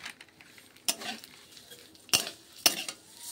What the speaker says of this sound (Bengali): সিমাইটাও আমি ভালো করে একটু ভেজে নেব লাল লাল করে।